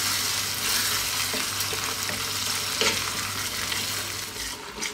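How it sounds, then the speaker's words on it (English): Meat sauce for pasta simmers and sizzles steadily in a pan, a constant bubbling hiss broken by occasional scraping stirs, close and fairly loud with no talking. "we're going to let it go for about 8 minutes now. Give it a stir every now and then"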